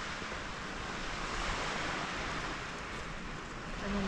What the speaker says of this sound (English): I hope you like the sound of the sea crashing against the beach, because that's what the background noise is here.